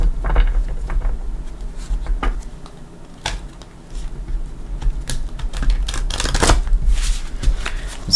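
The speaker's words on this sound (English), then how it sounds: "I'm going to give it a couple shuffles for you" A deck of tarot cards being shuffled up close, with a run of soft, irregular riffling and tapping bursts against a low background hum, no talking.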